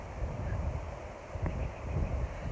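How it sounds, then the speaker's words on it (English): Gusty wind buffeting the microphone outdoors, a continuous low rumble with no one speaking. "it's a little bit windy"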